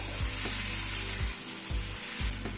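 Vegetable curry sautéing in a pan, meant to go with roti and paratha: a continuous hissing sizzle broken by several low scraping strokes of a spatula, close and fairly loud, with no voices.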